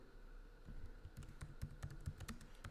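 Quick bursts of keystrokes on a computer keyboard, a cluster of sharp clicks close by, fairly quiet, with no talking over them.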